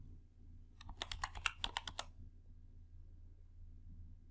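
A computer keyboard is typed on in a short, quick burst of about a dozen soft clicks, close but faint, with quiet silence before and after.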